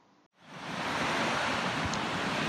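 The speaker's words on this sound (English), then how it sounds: "The waves are coming big and small, and seagulls are flying across the sky." Ocean surf at Garie Beach on a windy day, rising within half a second into a broad continuous wash of breaking waves mixed with wind rush against the microphone.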